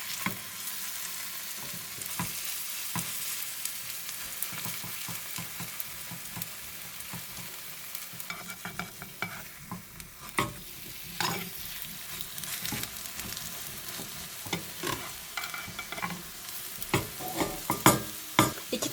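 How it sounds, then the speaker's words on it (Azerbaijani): Apple oladi pancake batter frying in hot oil in a pan, a soft steady sizzle with scattered spoon scrapes and clinks, fairly quiet and close; no voices. "Qoyuram pişməyə. Tökürəm."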